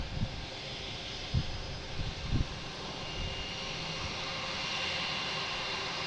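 A JetBlue airliner at Boston Logan International Airport, a distant, steady jet engine rumble and whine with a few brief low thumps early on, moderately faint and continuous.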